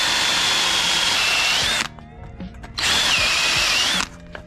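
A handheld power drill runs in two sustained bursts of about two seconds each, loud and close, with a quiet pause between them filled with faint knocks and handling noise.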